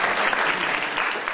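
Audience at a staged comic debate applauds, a brief dense burst of clapping that stays loud and even throughout the short moment.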